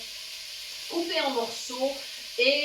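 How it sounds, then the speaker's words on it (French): Small unpeeled amandine potatoes cut in pieces and onions browning in a little olive oil in a pan, giving a steady soft sizzle beneath a man's French speech. "C'est en train de rissoler dans la casserole."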